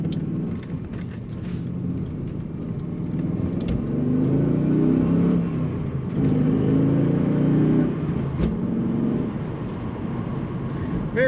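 2006 Pontiac GTO accelerating on the road, heard from inside as a low engine rumble that builds and surges through a couple of swells over steady road noise.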